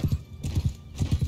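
Horses galloping in the video game Mount & Blade II Bannerlord, with rapid paired hoofbeats in quick repeated bursts, close and fairly loud.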